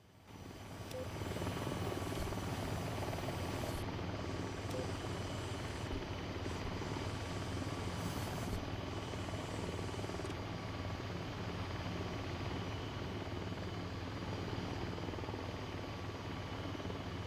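Steady, loud whirling drone of an aircraft propeller in the VTOL VR video game, a continuous rotor-like roar that holds evenly for the whole stretch with no voices over it.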